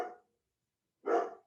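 A dog indoors gives two separate barks about a second apart, each brief and fairly close, with silence between them.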